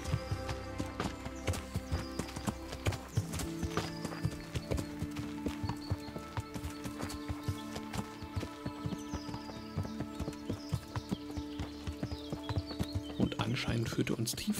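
Horse hooves clip-clop in the medieval video game Kingdom Come: Deliverance, a quick, steady trotting rhythm under spoken commentary and a soft musical score.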